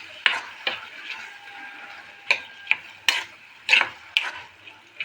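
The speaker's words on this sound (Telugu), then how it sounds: "ఇప్పుడు కొంచెం ఒకసారి కలుపుకుందాము." A utensil stirs food in a cooking pan with a rhythmic series of close scraping clacks, roughly a dozen strokes at an uneven pace over a faint background hiss.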